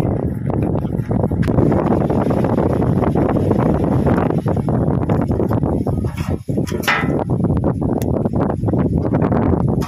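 Strong wind blows outdoors beside a barbecue in Italy, where charcoal is being lit for grilling pork, buffeting the microphone with loud, continuous roaring rumble and gusts.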